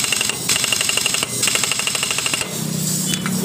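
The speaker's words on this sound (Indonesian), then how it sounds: "coba kita hidupkan apakah suara slip di bagian one way-nya masih terjadi atau tidak" A motorcycle engine, fitted with a new roller and one-way starter clutch, is cranked by its electric starter, making a rapid mechanical clatter in fast repeating bursts with brief breaks, loud and close.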